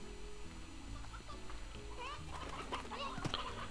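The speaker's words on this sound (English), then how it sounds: "I want to help the other chickens grow." Chickens cluck in the video game Slime Rancher, soft scattered clucks and squawks growing busier toward the end over a background music loop.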